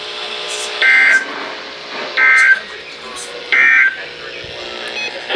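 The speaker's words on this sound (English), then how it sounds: "The station will broadcast severe weather alarm tones for Winnebago," NOAA Weather Radio KZZ57 severe weather alarm: three long steady tone bursts about a second apart, loud and mechanical, over faint background broadcast noise.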